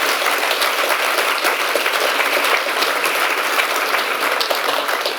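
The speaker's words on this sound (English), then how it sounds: "We can clap for them, they are both here." An audience at a fiction prize award ceremony applauds, a bright, steady burst of many hands clapping that holds at a loud, even level throughout with no speech.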